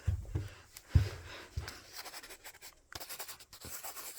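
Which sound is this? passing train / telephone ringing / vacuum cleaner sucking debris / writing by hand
writing by hand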